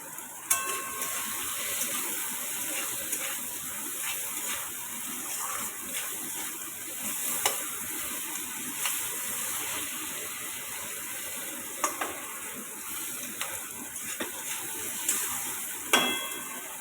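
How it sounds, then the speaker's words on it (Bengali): Onion, tomato and chili frying in a pan, with turmeric and salt being added, give a steady hiss and sizzle. Faint scrapes and clinks of stirring sound throughout, with a few louder knocks near the start and end. "পেঁয়াজ টমেটো লঙ্কা ভাজা হয়ে গেছে"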